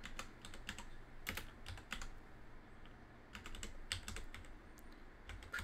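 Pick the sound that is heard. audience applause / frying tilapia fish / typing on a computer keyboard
typing on a computer keyboard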